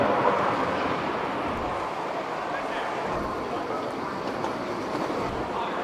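Airport concourse train ride: a steady, loud rumble of rolling rail noise fills the whole stretch, constant and close with no break.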